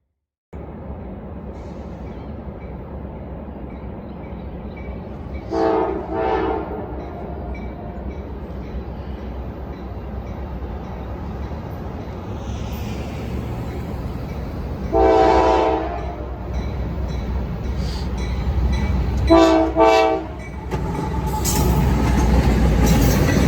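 Local freight train hauling rocks on a South Carolina line, rumbling steadily past with several loud horn blasts sounded in separate groups over the continuous wheel and car noise.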